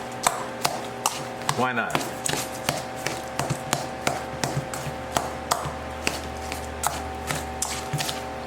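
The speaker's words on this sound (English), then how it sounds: "I guess I could squish some of these bananas down." Ripe bananas are squished down in a bowl for banana blueberry walnut bread, producing a steady series of sharp taps and knocks at a regular pace, with a brief spoken remark early on.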